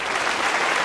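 Dense, steady applause from a student audience at a political interaction event, filling the whole short moment at an even loudness with no voices on top.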